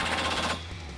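Rapid, loud rattling bursts of a power tool or impact wrench driving Jeep Wrangler JL body bolts with a 13mm socket while mounting rocker guards, running for about half a second before stopping abruptly.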